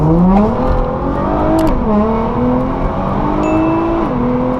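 Nissan GT-R R35 in automatic mode and normal drive mode accelerating hard from inside the cabin. The engine climbs loudly through several rising pulls, each cut short by a brief dip as the gearbox shifts up.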